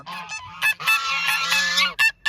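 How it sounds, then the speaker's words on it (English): Geese honk close by in a rapid, overlapping flurry of loud, nasal calls, several birds sounding in short bursts. "I just want to count our geese."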